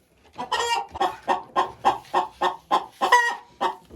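A hen in a nesting basket clucks in a quick regular series of about eight sharp, close calls, each clearly separated, with no talking.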